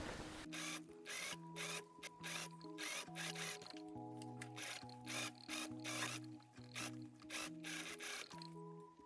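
A sewing machine stitching fabric while understitching the lining of a dress-coat, its motor whirring in steady bursts that shift speed, with rapid needle ticking throughout and no talking.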